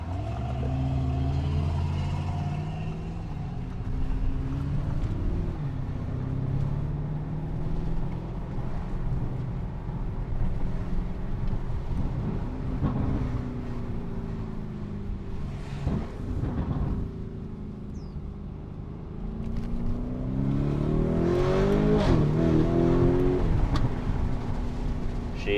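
A 2023 Lamborghini Urus S driving at normal pace, its engine a deep, steady rumble from inside the cabin that rises and falls with speed and swells louder toward the end, with no talking.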